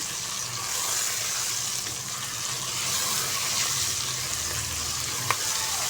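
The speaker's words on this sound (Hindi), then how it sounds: "बस देखिए, हमारा जो प्याज है वो फ्राई हो रहा है।" Onions sizzle steadily in a hot pan for matar gosht, a continuous close hiss with a faint clink near the end and no talking.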